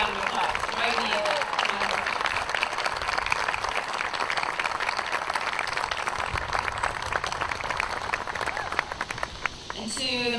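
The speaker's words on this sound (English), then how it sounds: "Can everybody please give me give Kim a big round of applause" A crowd applauds steadily and energetically for several seconds at a Navy retirement ceremony, the dense clapping fading out at the very end.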